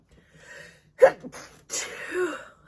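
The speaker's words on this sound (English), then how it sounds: "I'm gonna sneeze." A single sharp sneeze bursts out close to the mic, set between short breathy gasps and a trailing exhale.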